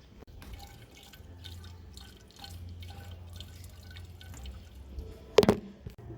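Coolant trickling and dripping into the engine of a Toyota Hilux 3.0 D4D 4x4 automatic, a faint, close liquid pour with irregular drips and a sharp clatter near the end.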